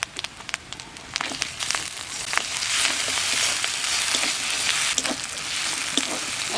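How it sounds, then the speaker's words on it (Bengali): Cumin and coriander paste sizzles in a hot pan, starting with sharp clicks of stirring and rising into a louder steady fry, close and without voices. "এখানে দেবো জিরে আর ধনিয়া বাটা।"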